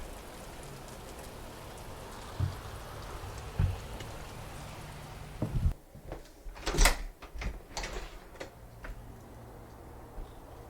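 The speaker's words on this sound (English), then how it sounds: "rain, rain, rain." Steady rain falls on a summer-browned lawn at the start of fall, a soft constant hiss with scattered louder drips and sharp taps against nearby surfaces.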